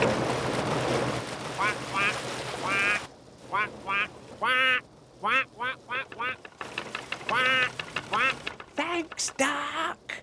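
Repeated duck quacks in short nasal bursts, some in quick runs, near a canal boat with an idling engine chugging underneath and a voice speaking at times.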